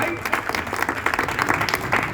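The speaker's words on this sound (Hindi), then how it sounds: "तालियां तो बजा दो भाई।" Dense clapping from a crowd at a birthday celebration fills the clip, steady and continuous for a couple of seconds, with a faint voice mixed in.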